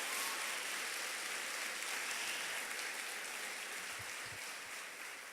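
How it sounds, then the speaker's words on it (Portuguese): Faint, distant applause from a church congregation during a sermon, an even wash of clapping that continues throughout and thins slightly at the end. "dê melhor esse aplauso em nome de Jesus"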